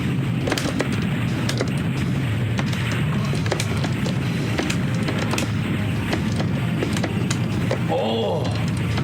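Grenade explosions and dense game combat from the shoot-'em-up Wolf Fang, a continuous loud barrage of booms and impacts with sharp bursts throughout, a voice briefly audible near the end.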